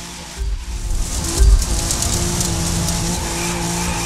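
A car in the video game The Crew 2 drives steadily, engine droning loud and close, with a brief tire skid and bump midway.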